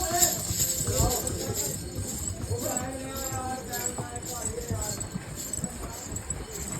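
Hooves of a horse carrying a rider clip-clop at a steady walking rhythm on a mountain pilgrimage path to Bhairav Baba, close by, with people talking throughout over the hoofbeats.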